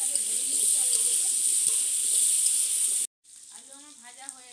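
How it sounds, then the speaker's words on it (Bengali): Potatoes frying in hot oil in a home kitchen, a loud steady sizzle that runs for about three seconds, then cuts off and gives way to a quieter, softer hiss. "তো চলো এখন আমি ভালো করে আগে ভেজে নিচ্ছি আলুগুলোকে।"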